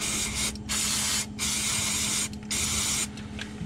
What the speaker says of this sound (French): Petit coup de nettoyant frein.